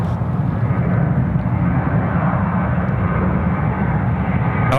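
Jetstar airliner arriving at Sydney Airport from Seoul, a loud, steady jet engine roar with dense low rumble holding unchanged throughout, no voices over it.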